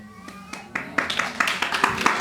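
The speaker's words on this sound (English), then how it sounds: "You're going to clap a lot this class." Scattered claps from a small audience build into a loose rhythmic clapping over about two seconds, fairly close and moderately loud.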